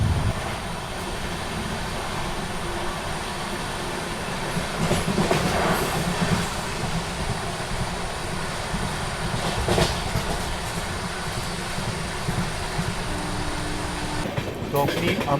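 Onboard an Amrit Bharat Express moving at speed, a continuous dense rumble of wheels and carriage rattle stays loud throughout, with a few brief louder swells and a short tonal whine near the end.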